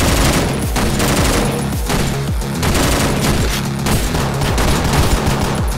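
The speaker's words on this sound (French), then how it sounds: "Je tire à travers le mur." Dense, loud gunfire fills the OTXO video game as shots are fired through a wall, with rapid overlapping bursts and booming reports in a continuous barrage and no speech.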